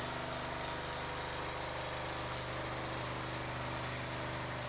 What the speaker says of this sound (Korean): 엔진 시동을 걸고 나서 적당한 RPM에 도달한 후